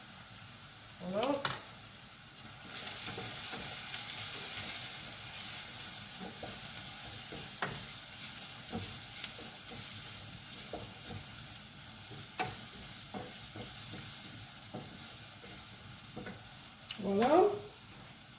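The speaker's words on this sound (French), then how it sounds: "Pendant 1 à 2 minutes en remuant pour éviter que ça accroche" Stirring of Thai shrimp soup ingredients in a pan with lemon, a spoon scraping and sizzling under light frying noise, with brief louder clatters near the start and end and a short spoken word.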